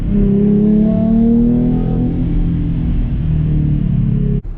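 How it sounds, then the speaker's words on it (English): A 2014 Ford Mustang V6 engine revs up loudly with a deep, throaty exhaust roar that holds steady, then cuts off abruptly at the end. "And then when you want to open up a little bit, you hear the exhaust."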